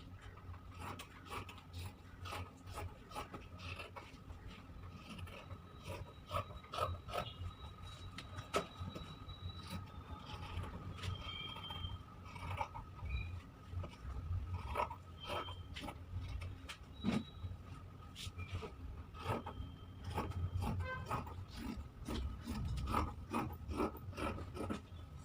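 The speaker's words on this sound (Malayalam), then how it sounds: "കട്ട് ചെയ്യുമ്പോൾ നമ്മൾ ഇവിടെ നിന്നാണ് കട്ട് ചെയ്യേണ്ടത്." Nursing coat fabric being cut, a quiet continuous rasp of cutting with many small scissor-like clicks and snips running through it, close and soft with no speech.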